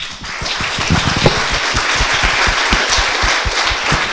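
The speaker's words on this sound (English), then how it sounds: "would you all stand up for a round of applause?" An audience at the Florence State of the Town gathering stands and applauds local educational institutions, a loud, close burst of many hands clapping briskly and continuously throughout.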